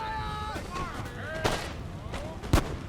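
Cannons firing canister shot in the Empire Total War video game boom in a few sharp, loud blasts over a busy battlefield murmur, with shouts mixed in between.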